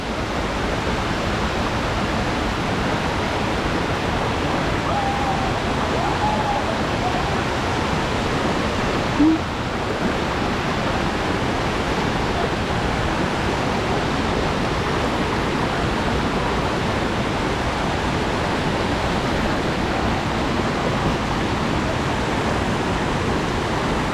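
A loud, constant roar of falling water, broad and unbroken from a nearby waterfall in Munnar, with no voices.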